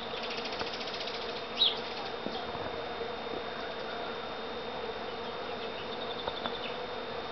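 Bees hum steadily around a pear tree in full bloom, a continuous close buzz with a few louder passes as individual insects fly near, under an open outdoor backdrop.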